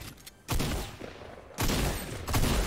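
Gunfire in a Fortnite match, two bursts of rapid shots with a short gap between them, loud and close, no talk.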